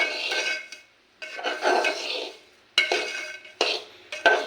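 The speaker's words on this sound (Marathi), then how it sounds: "3 चमचे तूप घालून हा रवा भाजायचा घेतला" A spoon scrapes and clinks against a pan while semolina (rava) roasts in ghee, giving repeated bursts of metallic stirring separated by short pauses, fairly close and moderately quiet.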